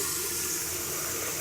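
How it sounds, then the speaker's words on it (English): Water poured into a cooking pot in a home kitchen, a steady rushing splash lasting throughout at moderate level. "we got to put some water"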